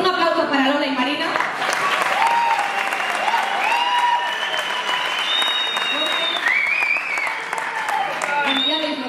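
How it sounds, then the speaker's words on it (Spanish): Audience applause at a live presentation session, loud sustained clapping from a crowd with cheers and voices mixed in, continuing throughout at close range. "pues un aplauso para Lola y Marina"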